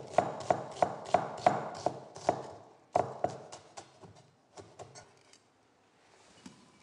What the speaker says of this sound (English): Roughly chop the onion.